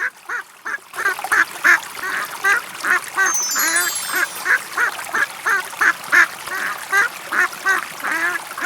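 Cartoon duck quacking in a rapid, loud, evenly spaced series of nasal quacks after a brief quiet start, with a sparkling magical chime passing midway.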